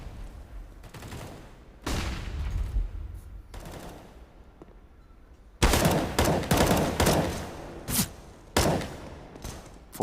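Gunfire on the Train map in a professional Counter-Strike match, with scattered single shots followed by a loud run of rapid bursts and sharp cracks, the final shot landing a headshot.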